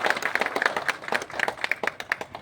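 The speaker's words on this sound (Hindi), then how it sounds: "एक बार थोड़ी ज़बरदस्त तालियां आनी चाहिए।" An audience applauds at an event promoting the Hindi film Bhaiya Ji. The clapping is sharp and fairly close, a lively run of quick, uneven claps that seems to come from a modest crowd.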